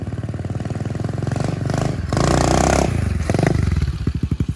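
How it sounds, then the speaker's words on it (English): A motorcycle engine chugs and then revs up loudly as the rider lifts into a wheelie, holds the high rev briefly, and drops back to a throbbing idle after a rear brake tap. "to show you guys an example of when I'm starting to do a wheelie, and I'm going to tap the rear brake to set it down"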